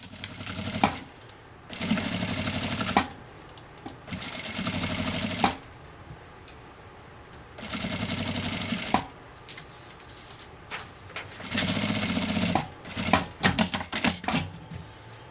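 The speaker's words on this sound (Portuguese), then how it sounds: "E eu vou passar uma costura aqui com um pé de máquina." Sewing machine stitching a seam with a presser foot on patchwork fabric for a dish towel border: four or five loud bursts of rapid mechanical whirring, each a second or two long, separated by quieter pauses with handling clicks, close up and without speech.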